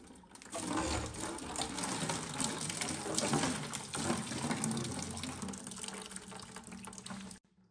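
Water pouring out of disconnected water softener pipes into a bucket, a steady close gushing stream that starts abruptly and cuts off near the end, with no one talking.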